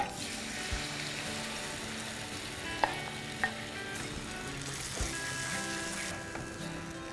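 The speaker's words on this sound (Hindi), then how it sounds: "उसमें जाएगा थोड़ा सा देसी घी और उसमें इस करी को डालकर हम भूनेंगे" Curry made with yogurt fries in desi ghee in a hot pan, a loud steady sizzle with scattered clinks and scrapes of stirring close by, no voices.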